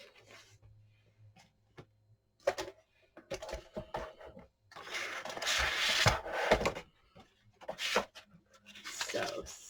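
Cardstock from a craft kit is cut with a trimmer or blade, heard as close scraping and slicing strokes with soft taps and rustles between them, with intermittent quiet gaps.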